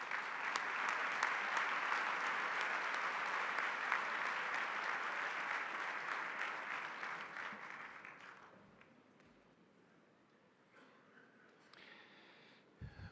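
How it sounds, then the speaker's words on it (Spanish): Sustained, loud audience applause at an economics congress for Dr. Horacio Rosatti, steady for about eight seconds before thinning into scattered claps and quiet room noise. "a quien lo recibimos con un fuerte aplauso."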